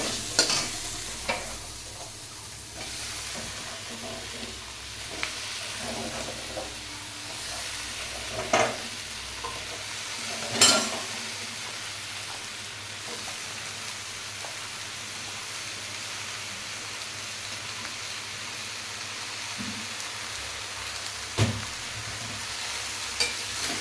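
Malabar spinach fried with spices in a pan: a steady sizzle runs throughout, broken by scattered scrapes and knocks of stirring, close and moderately loud.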